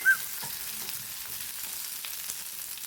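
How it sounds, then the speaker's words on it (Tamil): Green chillies and curry leaves sauté in hot oil, producing a steady, even sizzling hiss at moderate volume with a faint clink near the start. "ஒரு கொத்து கருவேப்பிலையும் சேர்த்து நல்லா எண்ணெயிலே வதக்கி விட்டுடலாம்."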